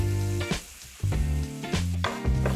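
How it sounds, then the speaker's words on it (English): Shrimp sizzles in a pan over medium-high heat, a steady frying hiss under a musical backing with a few soft stirring knocks. "We're gonna cook this on a medium-high heat for 2 to 3 minutes each side. Just gonna get that shrimp nice and brown."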